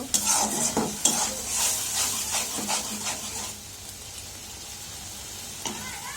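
Potatoes tipped into fried masala for a tangra fish curry: quick spoon scrapes and clinks against the pot over a soft sizzle, settling into a quieter hiss.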